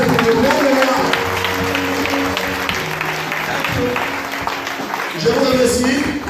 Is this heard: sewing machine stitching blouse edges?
no